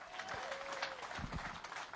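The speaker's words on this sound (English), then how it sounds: "Let's give him a round of applause" A short burst of clapping from a small crowd at a Bassmaster Elite fishing tournament weigh-in, fairly quiet and steady over a couple of seconds.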